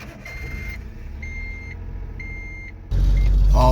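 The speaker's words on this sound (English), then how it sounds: "I gotta get this truck in here so I can get this seal changed out on here" A right-hand drive truck idles with a steady low engine rumble while being moved, thin electronic beeps repeating at intervals, then the engine swells louder near the end as it pulls in.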